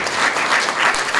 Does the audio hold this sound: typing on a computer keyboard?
no